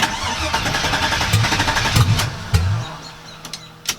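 A 1976 Chevy C10 pickup engine cranks and fires up after fuel system work, loud and close, with uneven bursts as it catches and settles into a rough run.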